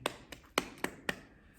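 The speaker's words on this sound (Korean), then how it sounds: "박수." Five quick, evenly spaced hand claps, sharp and fairly faint against a quiet background.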